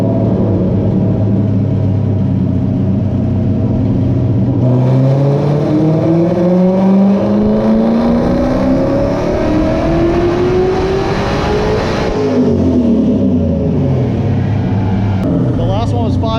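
A Coyote-swapped 1993 Mustang Cobra with a 91mm turbo revs hard on a dyno, engine pitch climbing steadily through a long pull, dropping, then rising again, loud and close with talk underneath.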